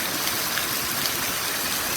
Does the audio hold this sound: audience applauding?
no